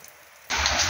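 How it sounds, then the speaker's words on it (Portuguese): Light rain falls at a rural farm in Frei Martinho under an overcast sky, beginning as a faint patter before swelling halfway through into a steady, dense hiss of drops on surfaces, heard alone without voices. "uma chuvinha fina, tempo fechado. Passou o dia assim, mas começou a chover agora."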